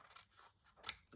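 Scissors snip through a small piece of fabric for a slow-stitch embroidery journal, a few quick close crisp cuts, the sharpest near the end, with no talking.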